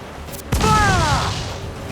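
A single heavy ship's cannon shot in Assassin's Creed IV Black Flag, during a pirate-era naval battle: a close, deep boom with a ringing, whistling tail that hangs for over a second, with no voices.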